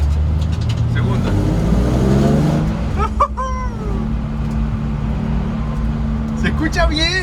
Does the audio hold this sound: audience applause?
no